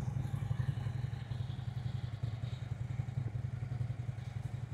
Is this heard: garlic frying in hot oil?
no